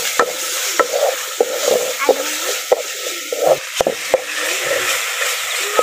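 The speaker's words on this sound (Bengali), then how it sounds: "সমস্ত মশলাগুলো আমি এখন খুব ভালো করে নেড়ে দেব।" Spice paste of turmeric, coriander and cumin being stirred while frying in a pan, a utensil scraping and knocking the pan in repeated strokes over a constant sizzle, close and clear.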